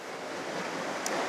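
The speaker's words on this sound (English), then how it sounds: "Get lost in the sound of the ocean behind me." Ocean surf washes steadily onto an open beach, a continuous broad rush of waves with some wind, loud and close and with no voices.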